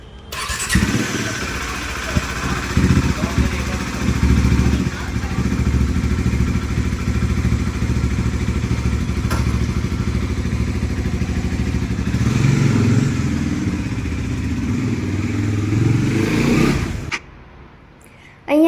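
A motorbike engine runs loud and close with a steady, throaty idle and some rattling for most of the stretch, on a hot summer day, then cuts out near the end.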